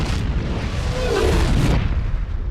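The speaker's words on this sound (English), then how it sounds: "here you have the atomic explosion from the self-destruct device" An atomic explosion effect from the self-destruct device in the film Alien vs. Predator swells into a deep, rumbling boom, a single sustained blast that fills the short clip before easing off.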